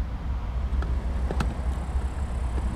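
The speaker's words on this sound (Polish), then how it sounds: "Sorry za szum w tyle, ale jest dosyć ruchliwa droga z tyłu." Traffic on a busy road behind the spot, a continuous low rumble with a few passing vehicles swelling briefly, moderately loud and steady, with no voices.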